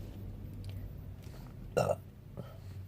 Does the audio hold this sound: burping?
yes